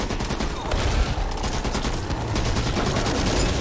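Rapid bursts of gunfire in the co-op zombie shooter Back 4 Blood during a final boss fight, sustained and dense across the whole moment, loud and close with overlapping shots.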